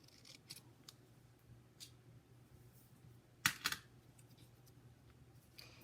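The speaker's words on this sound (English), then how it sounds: "So I will cut out these flowers." Scissors cut out stamped paper flowers for a handmade card: a few quiet, crisp close-up snips and light paper rustles over near-silence, with one brief cluster of sharper cuts.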